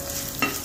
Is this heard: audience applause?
no